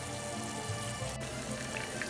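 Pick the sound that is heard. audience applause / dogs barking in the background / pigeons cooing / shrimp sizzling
shrimp sizzling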